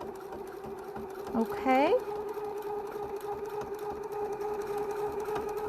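A sewing machine stitches and finishes the edges of a fabric face mask with a steady, even motor hum that runs throughout. A person briefly speaks over it.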